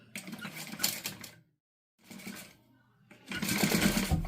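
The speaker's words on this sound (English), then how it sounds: "I'm going to top stitch at 1/8 of an inch to hold that panel down" A sewing machine top stitching a panel at an eighth of an inch, running in three fast, rattling bursts separated by short pauses, close and clear.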